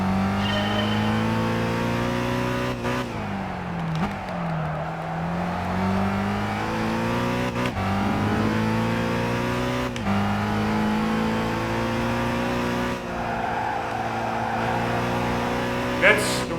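Racing car engine in Gran Turismo 5, revving hard and shifting through gears repeatedly, with pitch climbing and dropping over a sustained loud drone.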